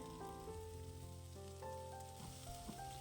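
Onions sautéing in a pan for a Kerala-style egg gravy, with a soft, steady sizzle and faint stirring scrapes, quiet and close, with no talk.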